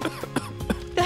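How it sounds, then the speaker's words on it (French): A person coughs in a smoky setting, giving four short, rough bursts in quick succession, close and fairly loud. "T'es en train de tousser comme une vieille popote."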